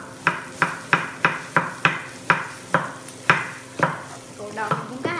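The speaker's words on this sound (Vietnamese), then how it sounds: "Mình xào cho cái hành tím này nó xanh, nó vàng vàng tí xíu ha" Shallots and onion sautéed in a pan with a steady run of about a dozen rhythmic spatula scrapes over a continuous sizzle, close and clear, with no talking.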